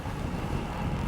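A cyclist rides into a strong headwind on an exposed stretch, and gusts buffet the microphone with a loud, low, rumbling roar.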